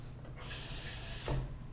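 Water runs from a kitchen faucet into a container while filling canning jars of potatoes, a steady broadband rush starting abruptly and continuing close up, with a brief louder splash near the end.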